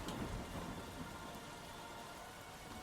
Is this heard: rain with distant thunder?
yes